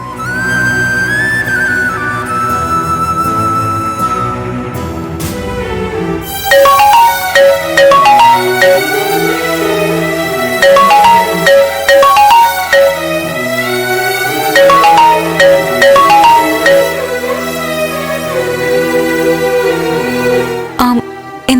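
Phone ringing during a call, a loud, repeating melodic electronic ringtone that keeps cycling its short tune over a sustained musical backing, with no talk.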